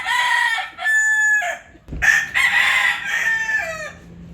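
A backyard breeding rooster crows loudly and up close, two drawn-out calls one after the other with a brief gap between them and no talk.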